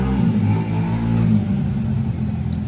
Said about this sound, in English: Make sure you guys wait till this moped passes.